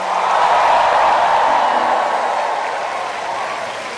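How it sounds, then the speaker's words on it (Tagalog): A congregation at a healing service applauds and shouts in a steady, loud, continuous roar that swells early and then eases slightly toward the end, with no distinct voice on top. "at lumalakas ang inyong sigaw"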